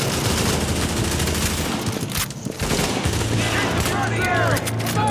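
Dense rapid gunfire rattles almost without pause during online co-op play in The Division's Russian Consulate mission, with a brief lull in the middle and a voice talking over it.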